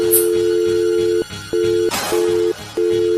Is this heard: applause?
no